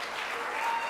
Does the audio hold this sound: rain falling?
no